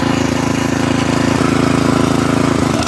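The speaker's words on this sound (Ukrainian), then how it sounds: "На першій передачі даємо газу." Tractor engine in first gear holding a steady, loud drone with a strong low hum, working a black currant plantation row while sowing oats between the bushes; no voices.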